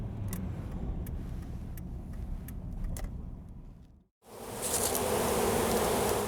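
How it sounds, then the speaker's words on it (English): A huge swarm of around a million bees around a felled tree, buzzing loud and steady at close range for about four seconds, cutting out briefly, then returning even denser and louder. "We probably got about 1 million bees over here."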